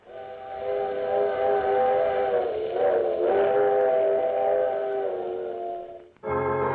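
A train whistle blows a long, sustained multi-tone chord that wavers slightly, then cuts off abruptly before a low rumbling of the train resumes.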